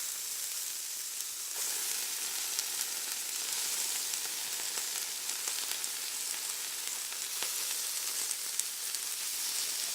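Turkey pieces brown in a frying pan with a steady, bright sizzle and crackle throughout, continuous and close with small pops and no talking.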